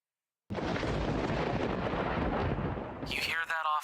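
A long, deep, distant roll of thunder from an approaching storm over the foothills rumbles steadily after a moment of silence and ends with a brief higher-pitched sound.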